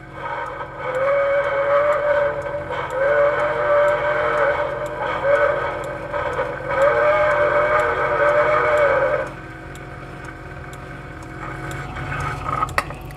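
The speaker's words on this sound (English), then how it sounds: "Train pulls away from the station." A steam-style train whistle sounds in repeated long blasts over a steady rumble of a toy train running, then the whistle stops and the rumble continues.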